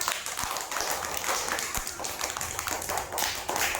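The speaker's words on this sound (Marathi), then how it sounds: "व्हेरी गुड टाळ्या वाजवा" A classroom of schoolchildren claps together after a poem recitation, a quick steady patter of small hands filling the room, fairly loud and sustained for a few seconds.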